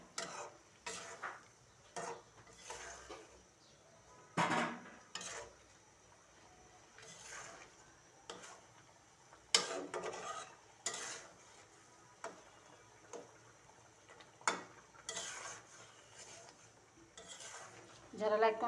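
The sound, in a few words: fish being stir-fried in a pan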